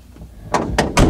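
A door in need of repair bangs shut in a quick series of three loud thumps, close by and with no talk.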